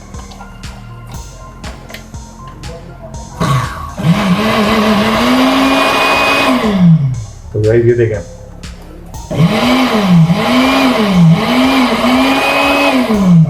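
A Moulinex juicer machine motor spins up with a loud whirring whine that rises and falls in pitch over several bursts, with a short stop in between, while someone talks over it.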